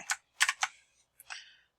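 Computer keyboard keys are pressed for the Control J shortcut in Photoshop, giving four or five quick, close, crisp clicks in a brief burst with no other sound.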